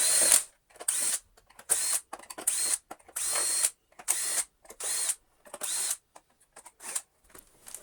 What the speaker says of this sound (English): Let's take all of the screws out.